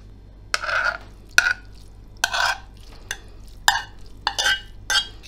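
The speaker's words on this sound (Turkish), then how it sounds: "Haşladığımız mercimek ile kavurduğumuz soğanlı kıymayı karıştırıyoruz bir güzel." A spoon scrapes and clinks through boiled lentils mixed with fried onion and minced meat in a pot, in about seven separate stirring strokes with short pauses, close and clear.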